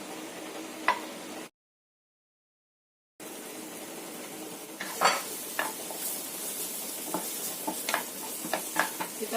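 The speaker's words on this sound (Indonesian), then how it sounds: "Kita akan tumis dulu wortelnya supaya wortelnya itu matang." Carrots sautéing in about a tablespoon of margarine in a nonstick pan over medium-low heat, a soft steady sizzle with a few stirring clicks and scrapes, cut by a short silent gap.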